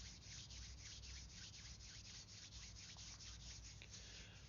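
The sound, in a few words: hands rubbing together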